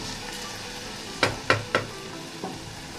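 Dal mash fries in oil in a pan, with a soft sizzle underneath and three or four sharp scraping strokes of a spoon stirring it, close and alone.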